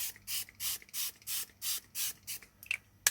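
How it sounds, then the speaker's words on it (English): A spray bottle misting watercolor paper before painting a stormy night sky: about eight quick, even, hissing squirts in a steady rhythm, close and loud, followed by a couple of small clicks and taps. "spray it"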